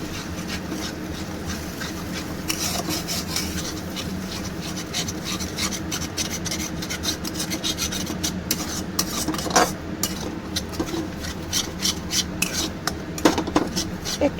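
Two beaten, lightly salted eggs frying and being stirred into a scramble in a pan; a close, repetitive scraping and clinking of utensil on metal runs throughout with soft sizzle beneath.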